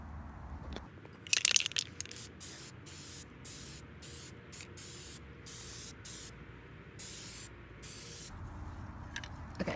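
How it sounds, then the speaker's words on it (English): Spray paint hisses from a can onto the edges of an IKEA tray in a run of short, evenly spaced bursts, close and fairly loud, with a louder rattle early on. "I don't actually need to spray the entire thing, just kind of the edges"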